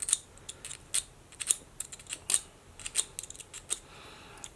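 Sharp clicking and crunching of a KnapEasy flint knapping tool pressing into stone, a run of irregular crisp clicks and gritty grinding bursts, close up with no talk.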